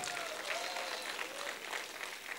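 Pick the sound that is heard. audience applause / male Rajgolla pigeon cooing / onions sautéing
audience applause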